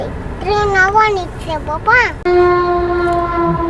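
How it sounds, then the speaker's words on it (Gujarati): A train approaches a closed level crossing on the way to Junagadh, sounding a loud, sustained steady horn blast after a voice and excited chatter nearby. "ટ્રેન આવી ગઈ છે"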